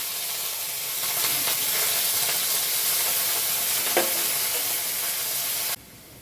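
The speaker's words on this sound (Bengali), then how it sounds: "এবার একটু পেঁয়াজ কুচি ভেজে তুলে নেব। লাল করে একটু ভাজতে হবে।" Chopped onions fry in hot mustard oil with a loud, continuous close sizzle and occasional stirring scrapes, cutting off abruptly near the end.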